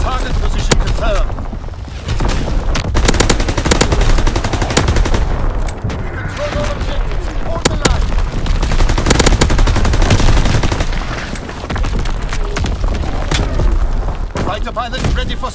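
Gunfire and artillery from the World War II shooter game Call of Duty: WWII fill a multiplayer match, with rapid machine-gun bursts, sharp single shots and booming blasts, while in-game voices call out orders.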